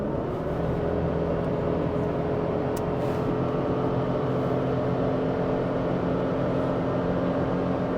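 A truck engine drones at a steady, heavy hum as a fully loaded overland truck with a canopy camper and fridges climbs a steep mountain grade under hard throttle, with constant road and wind noise and no talk.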